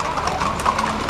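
Horses' hooves clip-clop steadily on pavement during a traditional riders' parade in Santo Antônio do Amparo, Minas Gerais, with crowd murmur behind the repeated close hoof strikes.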